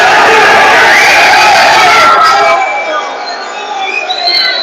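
A crowd fills the stands at a heated local football match with a loud, continuous roar and shouts, close and dense throughout, easing slightly near the end before swelling again.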